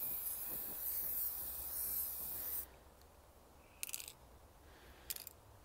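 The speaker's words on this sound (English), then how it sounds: "I'm going to start spraying" White spray paint hisses steadily from an aerosol can onto a green screen board, a continuous broadband rush that cuts off abruptly, followed by two short bursts of spraying.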